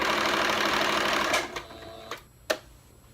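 A sewing machine runs steadily while stitching the center back seam of a plaid winter dress, a dense whirring hum for over a second before it stops, followed by a few soft clicks and handling noises.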